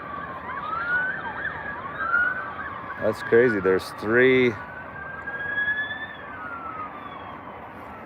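Police sirens wail in the distance on a farm morning, rising and falling steadily, while a person speaks briefly over them.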